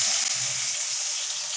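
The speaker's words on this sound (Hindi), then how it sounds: "और साथ में 2 चम्मच लहसुन अदरक का पेस्ट डाल दूँगी और चिकन को फ्राई करूँगी।" Chicken frying in a cup of cooking oil with garlic ginger paste, a steady close broadband sizzle that holds evenly throughout with no talk.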